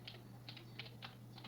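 Keystrokes on a computer keyboard during a search-tool test on MX Linux, five or six separate taps spread evenly over a steady low hum, close and moderately quiet, with no voices.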